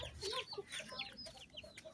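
Chickens on a chicken farm cluck steadily in a busy, overlapping chorus of short bursts, moderately close and with no talking.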